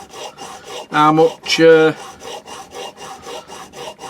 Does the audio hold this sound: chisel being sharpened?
yes